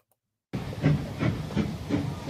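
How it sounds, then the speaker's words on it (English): An old steam train's rhythmic chuffing bursts of steam puff in a steady beat after a moment of silence, loud and close, like an engine labouring past. "you can also hear the old steam train chugging by, and maybe even hear the whistle blow"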